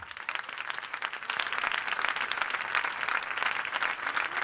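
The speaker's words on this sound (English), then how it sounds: "Let's give them another round of applause." Audience applause at the Miss Gibraltar 2008 pageant, a dense sustained wash of clapping from a large crowd that swells slightly and holds steady, with no speech over it.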